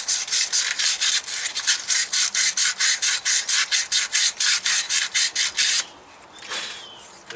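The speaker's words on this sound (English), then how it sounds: "I got to go all the way around like that and take my sandpaper." Sandpaper worked by hand around the inside of a metal hole while replacing an S cam on a three-axle semi trailer, with steady rhythmic back-and-forth rasping strokes, loud and close, that stop near the end.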